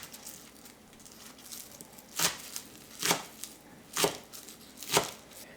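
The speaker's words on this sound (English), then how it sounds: "Next we're going to go through and slice them pretty thin so that they cook quicker." A knife slices soaked, rinsed scallions thinly on a cutting board, producing four crisp, evenly spaced chops about a second apart over a soft background hiss.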